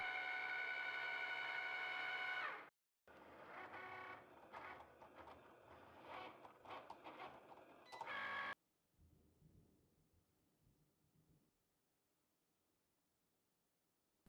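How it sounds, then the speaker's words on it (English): A Cricut machine cutting printed, laminated stickers, with a steady motor whine, then bursts of whirring and clicking carriage movement, a short pause and quieter mechanical shuffling before falling nearly silent. "I let the Cricut machine do its thing."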